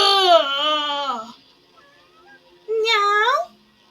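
A cat gives two drawn-out meows close by, the first long and wavering, then a pause with faint background sound before a second, shorter meow.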